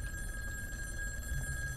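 A telephone rings steadily in the horror video game In Sound Mind, a sustained electronic ring heard alone at moderate level over a low background hum.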